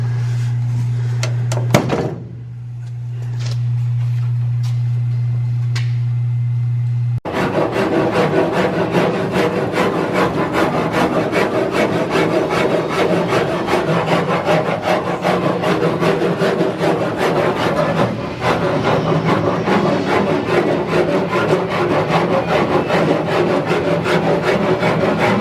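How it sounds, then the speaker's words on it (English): Wood being sanded and shaped while fitting body parts for a 1939 Packard V12, heard as steady, continuous rubbing abrasion close by for most of the stretch, following a short quieter opening with a low hum. "we're going to keep sanding that little bit out"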